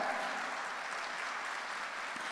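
Steady applause from a church congregation, a continuous dense patter of clapping held at an even level throughout with no voices standing out.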